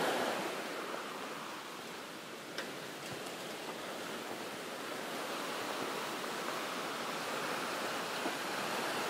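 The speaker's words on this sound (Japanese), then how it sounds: "そして川のせせらなぎの音がいいですね" Steady rushing water flowing continuously, a broad even wash of sound with no voices, constant in level throughout.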